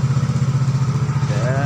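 A Yamaha X-Ride motorcycle engine runs at a steady, rapid idle with an even pulsing throb, close and loud throughout, with no pause or change in pace.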